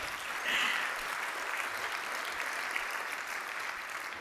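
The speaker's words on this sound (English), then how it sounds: "So give a clap for that." Audience applause at a talk on freedom in Latin America, a steady, even wash of many hands clapping for about four seconds at moderate, slightly distant level with no voices.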